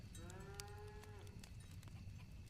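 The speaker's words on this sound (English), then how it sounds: "That is definitely a cow in the background." Out in the background a cow gives one long low moo, faint and distant, sliding down in pitch before fading into a steady hiss of outdoor noise and a few light knocks.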